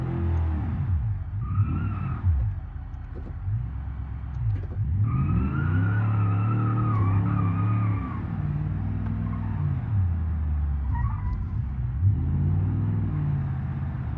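A 1977 Pontiac Firebird Trans Am driven in the game BeamNG Drive, its engine revving up and down with rising and falling pitch sweeps, loud and continuous, with tire skids.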